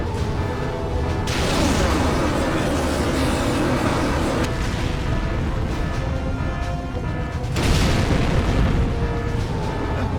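Guided rocket explosions in the James Bond 007: Agent Under Fire video game, two loud, close booming blasts whose noisy rumble rolls on for several seconds each, with no talk.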